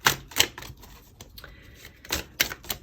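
Oracle cards being shuffled and picked from an Enchanted Map deck, a few quick close riffling snaps and flicks in short bursts with quiet gaps between, no talking.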